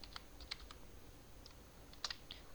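Scattered keystrokes on a computer keyboard while writing C++ code, soft irregular taps with brief clusters and pauses, fairly quiet and close, with no talking.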